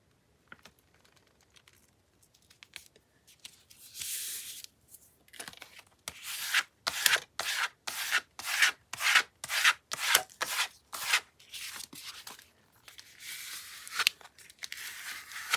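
Paper being torn in a quiet room during a journaling session, heard as a run of sharp, close, rhythmic rips and rustles of paper strips, with softer rubbing and handling sounds before and after.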